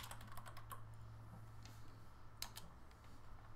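Computer keys tap out a short word in quick, faint clusters, then scattered single clicks follow against a low steady hum.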